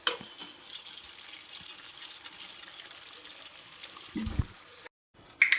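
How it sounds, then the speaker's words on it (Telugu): Water poured into a pan while paneer cooks, a soft steady trickle and sizzle running for several seconds before a brief louder splash and a short pause. "వాటర్ వేసుకుంటున్నానండి."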